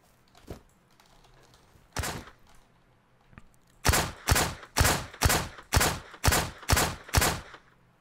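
Gunfire in the video game Miscreated: a few spaced single shots, then a rapid burst of about eight loud, evenly timed shots, with no talk.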